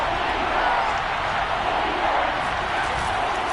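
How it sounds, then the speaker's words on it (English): Football stadium crowd before a big third down sends up a dense, steady roar of cheering and noise that stays loud and unbroken throughout. "The crowd getting into it as we come up on a big 3rd down."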